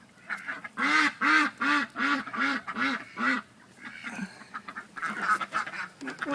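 Ducks quack inside a duck coop in a rapid, rhythmic series of loud, close, nasal calls, then a pause before a few more scattered quacks.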